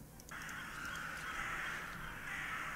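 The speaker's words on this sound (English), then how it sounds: "No, I heard the bird!" A crow caws in a steady drawn-out call in the video game The Last Door, against a background hiss, with no talking.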